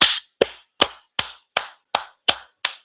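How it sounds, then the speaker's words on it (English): Eight sharp, evenly spaced hand claps ring out close and loud, as a single person gives slow deliberate applause at a Nigerian political gathering. "a round of applause to Mama"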